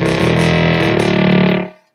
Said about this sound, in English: You put the delay all the way on, it sounds like this.